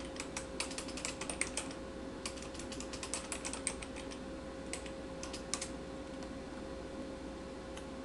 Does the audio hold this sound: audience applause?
no